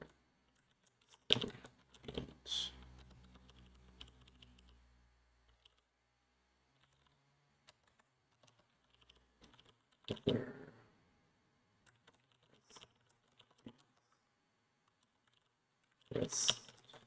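Keys pressed on a chorded keyboard: sparse, faint clicks and short clusters of taps separated by long quiet gaps, with a few louder bursts.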